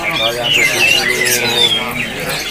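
Dense, loud chorus of squawking and chirping songbirds, including magpie-robins, crowded together at a bird market, continuous throughout, with people talking underneath.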